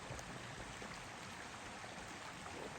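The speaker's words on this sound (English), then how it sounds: "Look at that little water wheel over there" Water flowing steadily past a small water wheel in open country along a trail, a soft broadband wash that holds constant throughout, faint and without voices.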